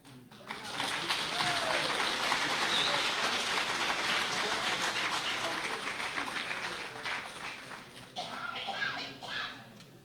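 An audience claps through a West Virginia southern region open town hall, steady dense applause holding for about eight seconds and then thinning and tapering near the end, with no talk over it.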